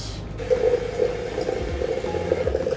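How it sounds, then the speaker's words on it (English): Water being poured into a breakfast drink mix, a continuous splashing and gurgling stream heard close up and alone, steady throughout without talk. "Now I will pour in the remaining water."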